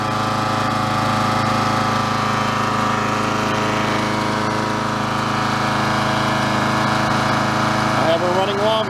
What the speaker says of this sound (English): I have a running lawnmower.